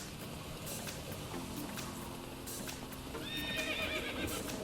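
A horse whinnies in The Witcher 3, its high neigh rising near the end over steady clip-clop hoofbeats and a dense game soundscape.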